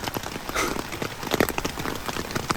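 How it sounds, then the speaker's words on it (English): Steady patter of rain drumming on a taut tent roof overhead, irregular drops tapping close by with a constant hiss beneath. "The rain begins."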